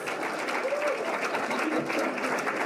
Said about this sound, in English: One big round of applause for him.